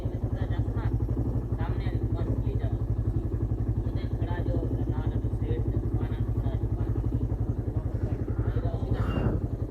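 A motorcycle engine idles near a shrine parking area in the Koh-e-Sulaiman mountains, with a steady, rapid, throbbing beat close by throughout and voices talking over it.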